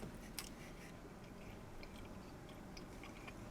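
Quiet, close chewing of a bite of mac and cheese meat pie with bacon, soft wet squishing and faint crunches running steadily for a few seconds, no talking.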